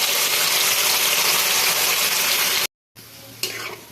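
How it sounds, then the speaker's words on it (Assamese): Spice paste for an egg curry fries loudly in oil in a pan, a dense steady sizzle that cuts out briefly near the end, then resumes softer with a sharp clatter of stirring. "এইখিনি এতিয়া তেল বিৰিঙি অহালৈকে মই ভাজি ল'ম"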